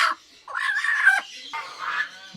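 A Golden Sebright hen gives a few soft clucks and murmured vocal sounds, close by and fairly quiet, in short separated bursts.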